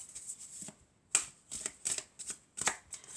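Fairy tarot cards are shuffled by hand close up in a series of quick, crisp riffling bursts separated by brief pauses, soft and papery with no talking.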